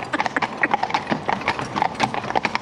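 Horse hooves clip-clopping in a quick, steady rhythm over close ground-level footfalls as the animal works through training poles in a schooling session, with faint background voice.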